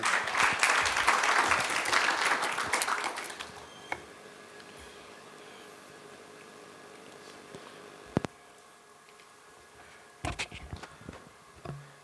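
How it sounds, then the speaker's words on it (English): Brief applause at the start that quickly fades, followed by quiet room noise and a few scattered knocks and clicks. "A round of applause to our discussant."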